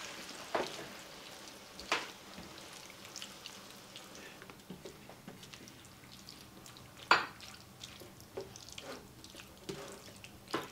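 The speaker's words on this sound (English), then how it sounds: "So let me just drop this in there. And stir it up real good." Drained ingredients dropped into a pan of taco macaroni and stirred, with a few soft clanks and scrapes of a spoon against the pan amid light wet stirring, fairly quiet and without talk.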